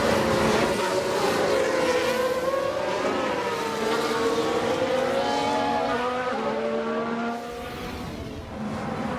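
Mercedes Formula 1 race car in F1 Manager 2022, its high engine whine rising and falling through gear changes as it races, loud and steady for about nine seconds with no talk.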